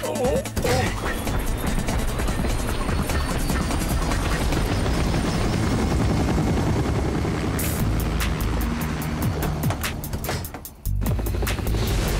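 A cartoon helicopter sounds as a dense, loud, continuous mechanical roar with rapid chopping beats, mixed with crashes and action effects, briefly dropping out near the end.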